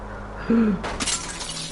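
A car crash in the L.A. Noire video game: a short voiced cry, then a sudden loud burst of breaking, shattering glass and debris that quickly settles into a lower rattle.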